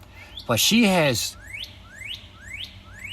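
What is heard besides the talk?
birds whistling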